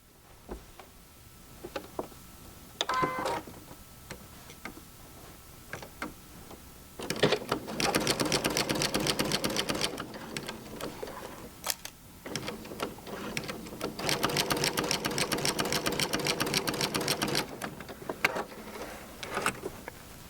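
Sewing machine seaming quilt binding strips together, with quiet handling clicks first, then two long bursts of rapid, even mechanical stitching at close range, separated by a short pause.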